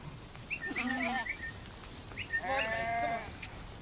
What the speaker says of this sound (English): They were moving the sheep toward the farm because it was time to have their woolly coats clipped.